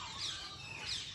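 A live chicken offered to a python gives a couple of short, faint clucks, close but quiet, over a brief stretch of low background.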